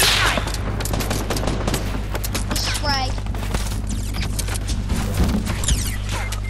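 Rapid gunfire and automatic weapon bursts from a video game squad match, continuous and loud throughout, with a steady low hum underneath and a voice talking faintly at times.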